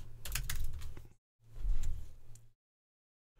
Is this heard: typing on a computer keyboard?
yes